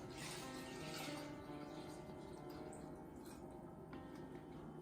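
Cold water poured into a pan holding lime rinds, a continuous faint splashing stream that lasts several seconds.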